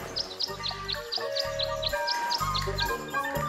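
A bird sings a little tune in the Tangle Tower video game, its quick, bright chirps repeating steadily over a gentle rhythmic musical backing, with no speech.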